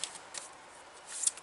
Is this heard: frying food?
no